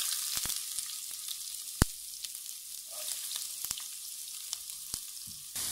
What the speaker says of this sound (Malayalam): കടുക് പൊട്ടിയതിന് ശേഷം അതിലേക്ക് നമ്മൾ അരിഞ്ഞു വെച്ചിട്ടുള്ള സവാള ചേർത്ത് വഴറ്റിയെടുക്കാം.